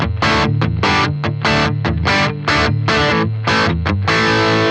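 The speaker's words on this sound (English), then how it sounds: "let's go for a classic crunch with a plexi amp" A crunchy, overdriven electric guitar through a plexi amp model on a Boss GX-100 processor plays a chunky chord riff with short stops between phrases, no talking.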